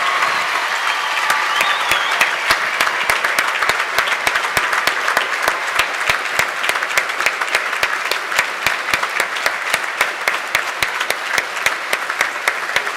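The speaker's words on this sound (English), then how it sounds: "let's give us another round of applause" A large graduation crowd at an agrisciences ceremony applauds the new degree holders, sustained dense clapping filling the hall with many crisp nearby claps over the roar.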